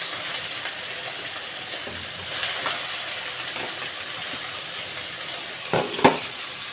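Tomatoes tipped into softened onions in a frying pan for egg shakshuka. A steady, moderate sizzle runs throughout, and a brief burst of splattering and clatter comes near the end.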